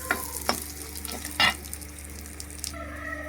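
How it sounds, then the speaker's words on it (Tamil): Garlic, shallots, chili, curry leaves and spices fry in sesame oil, a soft steady sizzle broken by sharp spoon scrapes and stirring clatter against the pan, close and fairly quiet. "எல்லாமே நல்லெண்ணெயில் போட்டு சுத்தமான செக்கில் ஆட்டின நல்லெண்ணெயில் போட்டு நல்லா ஆட்டி நல்லா விதக்குவோம்"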